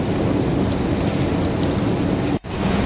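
Heavy rain mixed with hail pours down in a dense, loud, steady roar close by, broken by one brief dip near the end.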